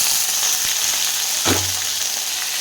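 Green beans tumble into golden-brown onions frying in a pan, a single soft thud landing amid a loud, constant close-up sizzle that hisses on throughout.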